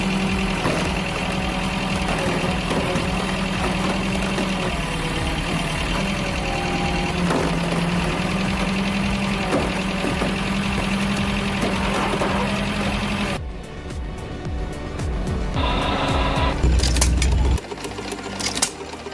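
Firewood processor driven by a rebuilt industrial Ford engine powering a heavy-duty pump: a loud, steady mechanical clatter runs close up for about 13 seconds, then shifts to rougher bursts and clanks.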